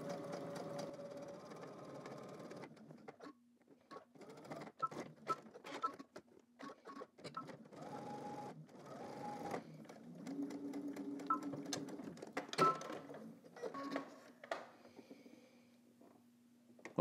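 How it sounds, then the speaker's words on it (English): Edge stitching along a shirt tab, a sewing machine whirs in short, intermittent bursts mixed with soft clicks and fabric handling, fairly quiet and close. "we're gonna edge stitch along the top, and then we're gonna edge stitch along the bottom"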